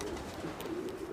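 Pigeons in a loft coo softly and steadily, overlapping low burbling calls close by with no talking.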